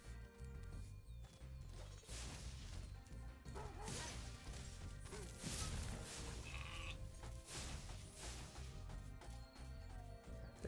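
Sheep bleat within the busy game soundscape of Spyro Reignited Trilogy, mixed with impacts, crashes and steady background music throughout, fairly loud and continuous.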